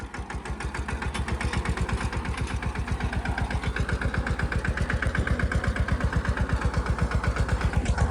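A tractor-driven groundnut digging machine runs in a field, its engine chugging in a steady, rapid rhythm, close and continuous without talk.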